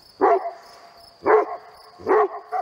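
A herding dog barks three times at an even pace, the loud barks close and separated by short pauses, with a faint steady whine behind them.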